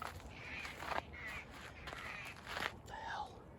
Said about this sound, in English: Menacing birds in the trees